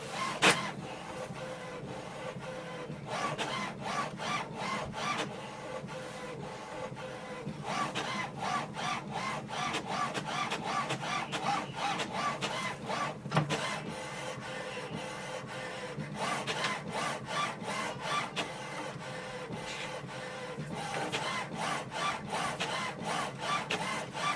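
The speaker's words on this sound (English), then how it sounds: "So printer is going to print the alignment page now." An HP OfficeJet Pro 9018 printer prints an alignment page continuously for the whole stretch, with rhythmic mechanical passes of the print head and paper feed, steady and close, with no talking.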